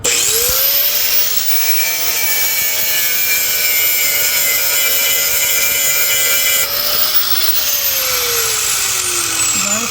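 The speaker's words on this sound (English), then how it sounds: "I'm gonna have to grind it. You're gonna have to clean the metal just so that you can weld on it." A power grinder cleans bare metal on a 1978 Dodge before welding, its high whine holding steady and loud, then dipping and rising in pitch as the disc loads and frees up, with a gritty rasp underneath.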